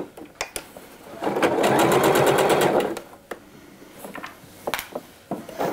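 A sewing machine backstitches a dress seam: a short run of rapid mechanical stitching, loud and close, with quieter clicks and fabric handling before and after it.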